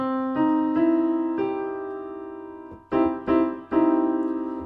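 A sustained harmonic chord with a split third on C rings out, then is struck again in three quick accented hits near the end, with a bluesy clash between two neighboring tones.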